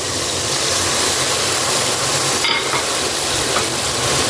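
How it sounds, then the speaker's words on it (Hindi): Masala with yogurt fries in a pan for potato kofta curry, giving a loud, steady sizzle that runs unbroken from start to end, with a brief sharper burst midway. "दही डाल के अच्छी तरह इसको भूनना है"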